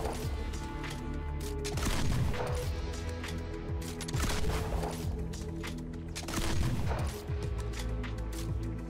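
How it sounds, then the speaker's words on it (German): Heavy shotgun blasts from the Dragoner in Fortnite: Save the World boom repeatedly at roughly two-second intervals, each followed by clattering mechanical reloading noises, loud and close with no talking. "Wir schießen jetzt mal."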